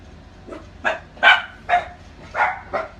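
Six sharp dog barks come in an uneven series, evenly loud and fairly close, in an indoor setting during a makeup tutorial, with no talk over them.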